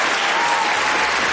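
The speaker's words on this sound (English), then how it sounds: "it's welcome with applause, and quite rightly so" Dense, steady audience applause fills the space after a closing speech at a fan debate event, continuous and fairly loud with no gaps.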